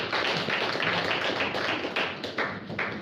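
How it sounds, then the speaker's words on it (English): An audience at an HR professionals' debate applauds Mr. Onyango with a dense, steady round of clapping from many hands that thins slightly toward the end, with no one speaking. "Ladies and gentlemen, a clap for Mr. Onyango."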